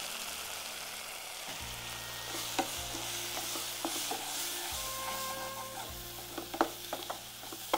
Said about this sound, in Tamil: நான் தீ குறைக்கல, ஃப்ளேம் கொஞ்சம் ஜாஸ்தி வச்சு கைவிடாமல் கிளறுறேன்.